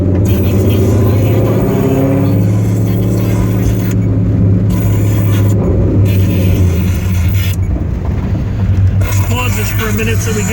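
A 1967 Ford Mustang Eleanor pro-touring build with a Coyote V8 idles steadily, a loud, close, continuous low rumble that fills the whole stretch, with people talking over it.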